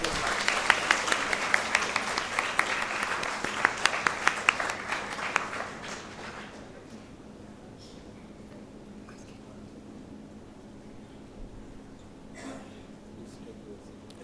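Audience applause at a college Prerna Diwas birthday celebration event, loud and dense clapping for about six seconds before fading out, leaving a quieter hall with faint murmurs.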